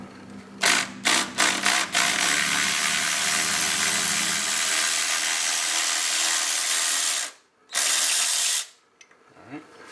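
A wrench ratchets and strains against a middle nut on a Mercedes-Benz engine, a few sharp clicks giving way to a long, loud grinding rasp with a short break before a final burst.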